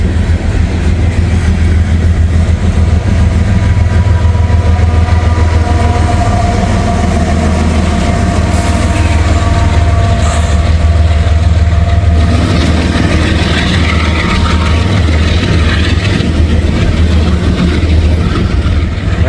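Freight train with a DPU locomotive rolling past in the rain, a loud constant low engine drone with rumbling wheels and rattling cars that shifts in tone midway as the locomotive goes by.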